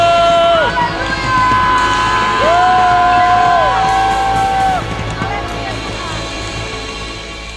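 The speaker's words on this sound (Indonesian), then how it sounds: "Sorakan haleluya." A church congregation at a Sunday service shouts and cheers hallelujah in a loud, lively burst of overlapping voices, whoops and sung tones that fade toward the end.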